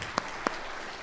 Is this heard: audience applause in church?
yes